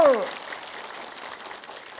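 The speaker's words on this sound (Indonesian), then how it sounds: "Boleh tepuk tangannya Bu." Studio audience applause at a taping of the Indonesian religious talk show Siraman Qolbu, a dense wash of clapping that follows a brief voice at the start and holds steady at moderate loudness.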